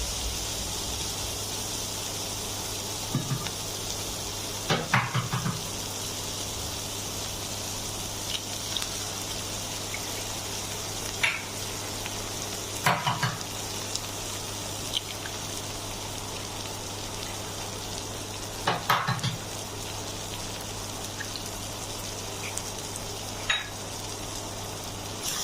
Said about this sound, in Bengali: এবার সবগুলো ইনগ্রিডিয়েন্টস আমি একসাথে ঝুরি করে ভেজে নেব।